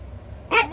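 Small chihuahuas yap on a terrace; a single sharp, high bark breaks out close by after a quiet moment.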